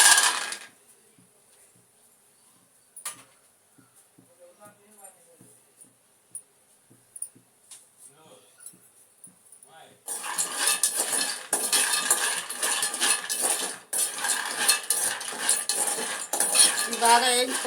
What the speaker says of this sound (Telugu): పల్లీలు వేయించుకుందాం అండి.